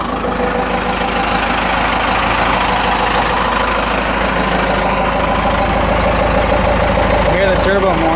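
A Cummins 4BT diesel engine idles after a turbo replacement, a loud, close, steady rumble with a knocking diesel clatter throughout, and a voice talking over it.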